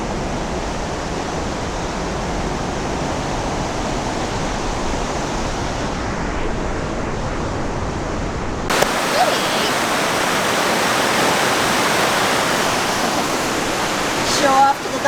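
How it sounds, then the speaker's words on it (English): A steady, loud rush of falling water roars without pause, its tone brightening partway through as if heard from closer. "she was pretty close to the waterfall too"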